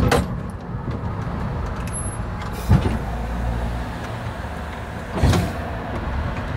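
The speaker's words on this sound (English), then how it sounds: "We've got a bit of a traffic jam." Road traffic in a jam around a vintage tram in Bendigo: steady vehicle rumble and idling engines close by, with a couple of brief mechanical clunks, and no talk.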